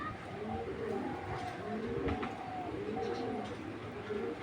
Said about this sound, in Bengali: এই তো এইগুলো ওল্ড ব্রিডের কবুতর ভাই।